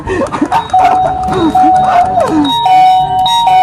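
Electronic doorbell chiming a melodic tune, loud and close, with a second ring following shortly after amid faint background voices.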